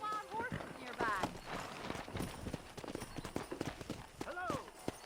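Rapid clip-clop of horse hooves at a gallop in Red Dead Redemption, steady and fairly close, with a few voices calling out over the hoofbeats.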